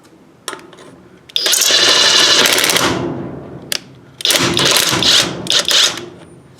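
A 12-volt olmlmo cordless impact wrench set to its second level loosens a fastener in two loud, buzzing hammering bursts of a couple of seconds each, separated by short clicks and quiet pauses.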